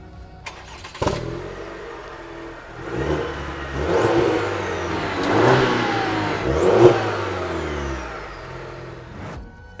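A Cadillac CT4-V sports sedan engine revs hard several times, heard from outside in damp weather, rising and falling in loud bursts with a low rumble between them.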